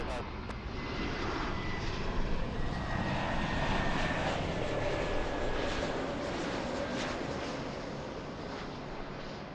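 An airliner roars on its takeoff roll from runway 24 left at LAX, a broad, steady engine rumble with a faint whine that holds loud for the whole stretch before slowly easing, with radio chatter in the background.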